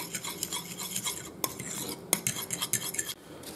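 Eggs and canned cream corn being mixed in a bowl for homemade carp bait, with quick metal-on-bowl clinks and scraping stirs in an irregular rhythm, close and alone without talk.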